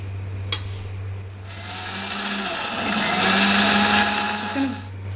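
A mixer grinder jar blends cooled masala for chicken curry, a loud close whirring grind that starts after a click, rises in intensity midway and keeps a steady buzzing motor hum underneath.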